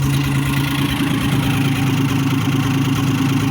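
A GAZ truck engine, freshly overhauled and running without its exhaust pipe, idles loud and close with a steady throbbing rumble and light mechanical clatter throughout.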